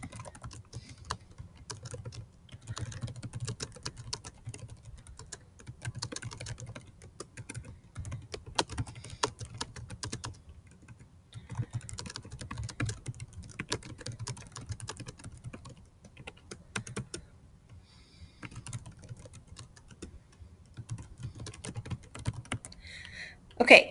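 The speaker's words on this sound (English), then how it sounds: "then I can just type her a little message" Computer keyboard typing an email, quiet irregular key clicks running in bursts with short pauses over about twenty-four seconds, no talk.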